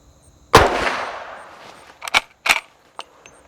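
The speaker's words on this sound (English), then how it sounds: "on we go with 3 rounds from 25 yards of the Freedom Munitions 357 Magnums" Three .357 Magnum revolver shots with Freedom Munitions ammunition at an outdoor range at 25 yards: one loud sharp crack with a long ringing tail, then two more sharp reports in quick succession.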